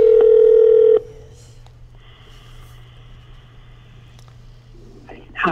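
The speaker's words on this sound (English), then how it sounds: "let's just give her a call." A phone call placed on speakerphone gives a loud steady dial tone for about a second, then a quiet line hum with faint clicks before a voice comes through at the end.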